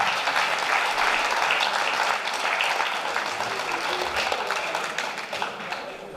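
An audience at a cabaret evening in Livarot applauds warmly, a dense and fairly loud wash of clapping that holds steady for several seconds and then fades slightly toward the end.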